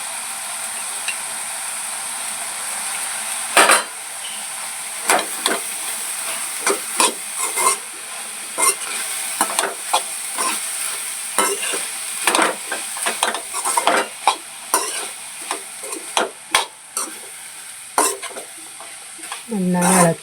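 Grated coconut and curry leaves are stirred into a Kerala vegetable stir-fry in a pan, a loud, close frying hiss punctuated by frequent sharp scraping strokes of the spoon.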